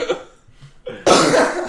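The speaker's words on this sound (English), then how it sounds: "I just keep coughing into the mic all night" A sick person coughing hard right into a microphone, a short harsh burst after a brief throat sound, loud and close.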